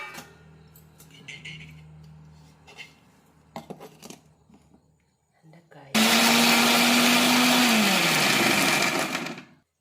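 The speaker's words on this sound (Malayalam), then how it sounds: "ഇതെല്ലാം വഴറ്റിയെടുത്തത് നമുക്ക് മിക്സിയിലിട്ട് കറക്കിയിട്ട് വരാം" A mixer grinder whirs loudly for several seconds grinding sautéed chutney ingredients with tamarind, its pitch dropping as it runs, following quieter kitchen clatter and handling noises.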